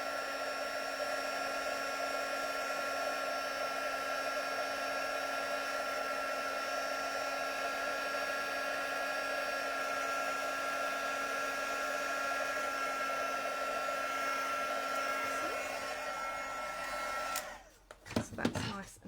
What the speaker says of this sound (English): we're going to use our heat tool to just get that to set